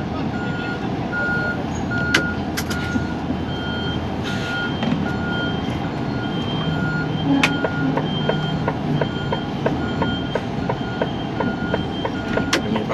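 A lorry reverses on Felixstowe docks on a foggy early morning, its reversing alarm beeping steadily and repeatedly over a constant low diesel engine rumble, with occasional sharp clanks nearby.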